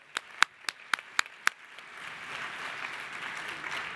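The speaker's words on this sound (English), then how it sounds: "Please give him a round of applause and thank him." A summit audience starts a round of applause: a few sharp, separate claps open it, then they merge into a soft, spreading patter of many hands that builds toward the end.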